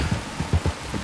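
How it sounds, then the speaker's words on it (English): Rain falls in the Red Dead Redemption 2 game world, a soft steady patter with a few heavier drops thudding low and close over a brief moment. "You were right about the damn rain."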